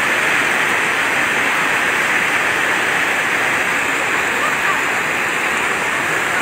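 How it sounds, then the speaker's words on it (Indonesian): Floodwater from heavy rain in Wolowaru overflows from a roadside drain onto the road, a steady, loud rushing and gushing of water that continues without a break. "luapan aliran air dari got ke badan jalan"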